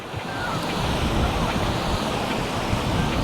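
Steady wash of surf at a beach in Playa del Carmen, Mexico, a continuous close roar of breaking waves mixed with wind buffeting the microphone.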